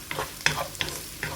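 Chopped onions and curry leaves sautéing in a pan for Kerala-style squid pepper masala. Four quick, close spatula scrapes stand out over a soft, constant sizzle.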